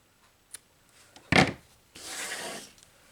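Scissors trim cross stitch fabric for a tart finish. Close and quiet, there is a soft tap, then a sharp crunchy snip, then a longer rasping cut through the cloth, with no voices.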